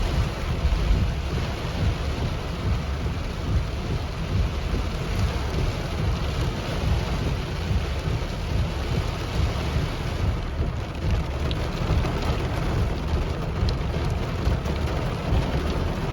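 Heavy rain and a thunderstorm at a camping site, with a steady loud wash of rainfall and deep low rumbling that runs unbroken throughout, and no voices.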